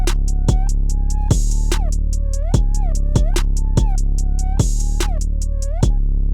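Hip-hop beat with a reversed second pluck and the 808 turned down, where regular kick hits and bright pluck stabs repeat in a steady loop over a low bass drone, loud and clean.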